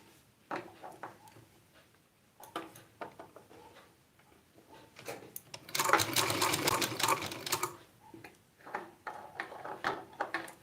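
A sewing machine stitches fabric in a round, turning seam, with short intermittent bursts of clicking stitches and a longer loud run in the middle, heard close and without talk.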